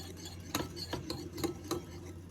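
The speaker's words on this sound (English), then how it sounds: "A spoon, I'm just gonna mix this till it's well incorporated" A spoon stirring a lime juice dressing in a bowl, giving about five light clinks against the side in an uneven rhythm over a soft background, close and fairly quiet, with no talking.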